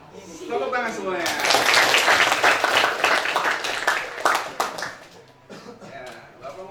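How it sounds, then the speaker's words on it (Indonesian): A classroom group led by a teacher bursts into dense, loud applause after voices at the start, the mass of clapping swelling, then thinning into scattered claps and fading. "Tepuk tangan semuanya."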